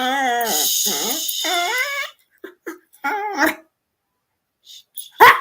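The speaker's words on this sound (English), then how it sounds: "Your bark is really loud. Very loud and yippy yappy." A small, yippy dog barks loudly and close by in a home, giving a quick run of sharp high yaps, a pause, then a few more barks at the end, with no talking.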